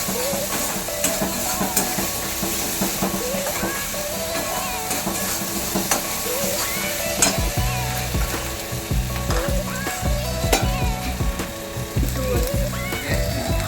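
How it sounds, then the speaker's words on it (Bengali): Chili powder masala sautéing in oil in a pan for palak paneer, a continuous sizzling fry with scraping stir strokes close by. "দেখুন কষাতে কষাতে আমার হালকা তেল ছাড়ছে, আর একটু কষালেই হয়ে যাবে।"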